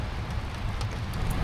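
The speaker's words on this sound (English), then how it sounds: "It's been raining all night, which kind of helps you sleep" Steady rain falls through the night on a vehicle parked in a Walmart parking lot, a soft continuous patter with a low rumble beneath it and a few brighter drop hits, heard from inside the vehicle.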